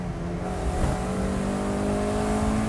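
Steady engine drone from a 1990 Mazda Miata inside the cabin, with a brief throttle blip around a heel-toe downshift, the pitch holding fairly even with no talking.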